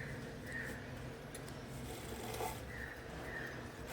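A sewing machine runs steadily, double-stitching along the belt edge of a girl's lehenga, a continuous close whirring chatter without pauses.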